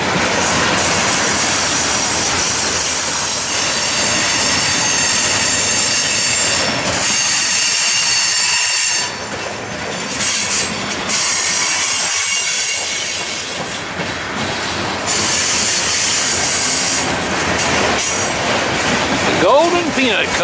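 A Norfolk Southern freight train, number 322, pulls out of Jenkinsburg, Georgia, with a steady loud rumble of rolling railcars, rhythmic clickety-clack of the wheels and occasional wheel squeal, continuous throughout.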